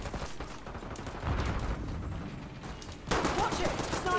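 Shotgun blasts in Black Ops 6 multiplayer, a few heavy, dense bursts of gunfire amid busy battle noise, fairly loud and close.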